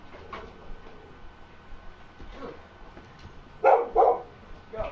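A dog barks twice, loud and close, near the end. Before that there is a low indoor background with faint voices.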